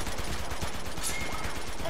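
Blind fire from behind cover in Uncharted 2 crackles as a rapid stream of faint, muffled shots over dense background noise, continuous for the whole short burst.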